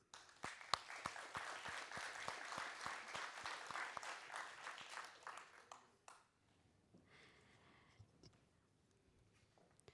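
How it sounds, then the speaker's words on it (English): An audience claps steadily for several seconds, dense and even, then the applause dies away to quiet room murmur with a few stray claps. "Another round of applause for our panel."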